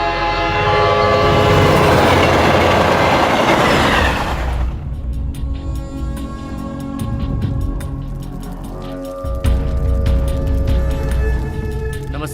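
Train passing close with a loud horn blast at first, then a rumbling rush and rhythmic clatter of wagons over the rails continuing steadily.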